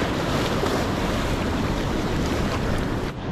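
Waterfall beside a mountain, a loud, steady, broadband rush of falling water with no breaks.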